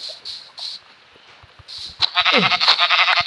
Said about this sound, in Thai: เราใช้มือตีแกะ